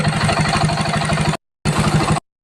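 A motorcycle fitted with a 32mm flat carburetor idles quietly and evenly, its low, steady pulses close by in two stretches separated by brief silent gaps.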